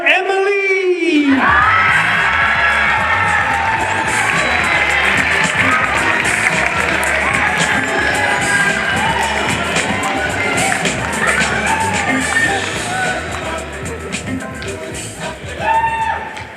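A school poetry slam audience of ninth graders bursts into loud cheering, whoops and applause after a brief spoken introduction, the crowd noise staying dense and sustained before tapering slightly near the end.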